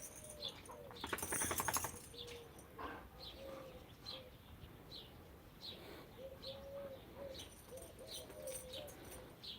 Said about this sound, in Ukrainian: А он голуб, бачите, стадить. Почтовий голуб.